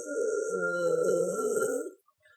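A single long, loud belch rumbles for about two seconds and then cuts off abruptly, heard alone and close up.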